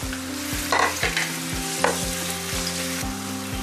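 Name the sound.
chopped onion frying in pan for chicken roast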